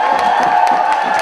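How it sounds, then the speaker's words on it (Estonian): A crowd at a summer youth work camp gathering cheers and whoops loudly, a dense burst of voices close by. "Aplaus!"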